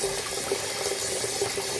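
Water pours steadily from a tap while a pot is rinsed out after making mint chocolate fudge ice cream, a continuous rushing splash with no pauses.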